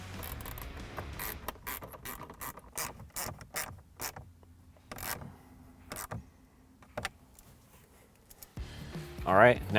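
A tool drives two screws into the back of a dash tray on a 2015–2019 Ford F150 during a touch screen stereo install, giving a run of sharp ratcheting clicks and mechanical taps, then a voice at the end.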